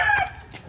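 A rooster gives the brief tail end of a crow, loud and close, fading within a fraction of a second.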